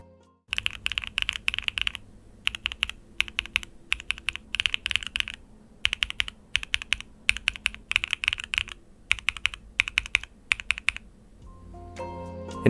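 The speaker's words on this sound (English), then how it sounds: "I'll be comparing between Domikey, GMK, and Novel Keys PBT Taro keycaps on the J," Bursts of clacky typing on a Mode 65 mechanical keyboard fitted with Domikey, GMK and PBT keycaps, repeated runs of quick close keystrokes separated by short pauses.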